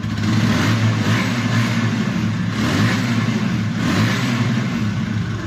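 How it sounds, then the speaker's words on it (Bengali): A used TVS Apache RTR 160cc motorcycle engine runs steadily at idle close by, a loud continuous throbbing rumble with slight rises in pitch, no voices. "বাইকটি কিন্তু স্টার্ট অবস্থা আছে দেখুন"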